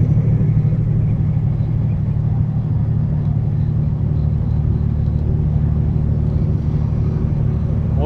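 A truck rolls down a highway exit ramp on a snowy westbound run, with a steady low engine and road rumble droning without break.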